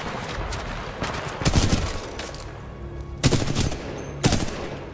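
A cannon fires in the Titanfall 2 video game: loud, sharp bursts of gunfire, with a cluster early on and two strong blasts near the end, over a dense rumbling battle backdrop.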